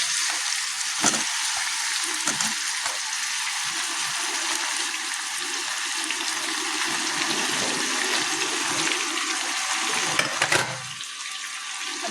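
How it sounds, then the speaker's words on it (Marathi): Onion fries in a pan with garlic paste for a Goan-style dish, giving a loud, continuous, hissing sizzle with occasional stirring scrapes close by that eases slightly near the end. "आता बरो कांदो तळसून घेवया."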